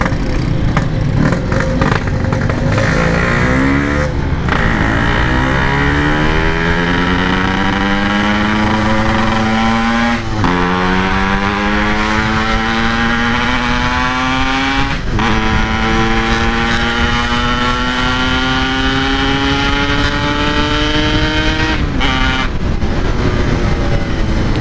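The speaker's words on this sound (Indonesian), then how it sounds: "Ini kalau pakai PK3 ini udah pasti kenceng suaranya kalau digas" A Yamaha RX King two-stroke motorcycle fitted with a PK3 carburetor rides along, its loud, raspy exhaust climbing in pitch through each gear, then dropping at every shift about four times, close and constant.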